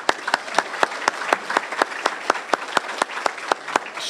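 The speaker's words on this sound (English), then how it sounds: "Let's give her a round of applause." An audience at a Kiwanis club meeting applauds, with steady, evenly paced claps that ring out close and clear for several seconds.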